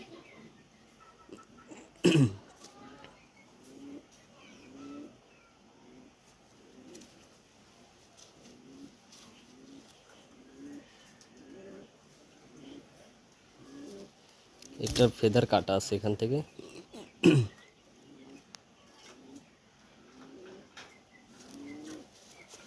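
Teddy and golden Pakistani pigeons coo in soft, regular low calls close by, while a person talks over them with occasional louder handling noises.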